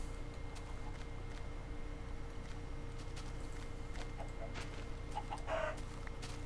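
Chickens in the Minecraft video game give a few faint, short clucks late in the clip over a steady low background hum.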